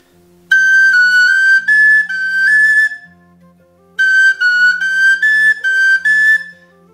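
A tin whistle plays a phrase of the Kesh Jig, a traditional Irish tune, as two clear, bright, close melodic runs separated by a short pause. It sounds loud and alone, with no talking.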